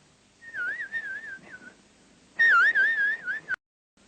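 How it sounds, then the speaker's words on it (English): A falconer's recall whistle for a goshawk sounds in warbling, trilled bursts, a short series of notes, a pause, then a louder, closer warbling phrase that stops suddenly. "Later on, he might get out of sight while and he could be recalled by whistle."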